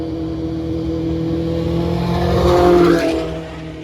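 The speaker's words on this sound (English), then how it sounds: "Got a Lotus F1." A Lotus Formula 1 car sweeps past trackside at Spa on a wet day during a DTM meeting, the engine whine swelling close and loud toward the end and then dropping away, no voices.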